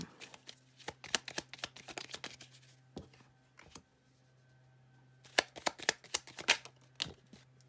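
Tarot cards are shuffled and laid out on a table: clusters of quick crisp riffling flaps and sharp card snaps, close and fairly quiet, with a short pause in the middle before another burst of shuffling.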